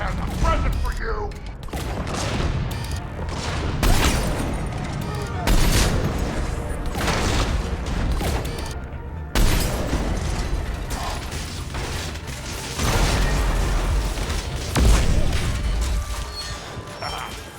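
Mechs blowing up during a mech fight in the video game Mass Effect 3: repeated sharp explosive bursts and clanking mechanical impacts, loud and busy, with brief voices mixed in among the blasts.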